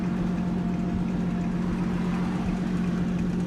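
A car with a modified catback exhaust idles with a steady, deep low rumble that holds an even, continuous drone throughout.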